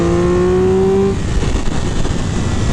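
A Triumph Speed Triple RR 1200 cc street-legal race bike on a test ride: a loud, steady high-revving engine drone that drops in pitch partway through, then a rougher roar with heavy wind rush, close and alone.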